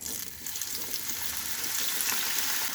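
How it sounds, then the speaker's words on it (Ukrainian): Steady crackling sizzle of eggplant frying in hot oil, close and continuous, with a faint watery hiss throughout. "обсмажую ці синенькі до золотистої шкірочки"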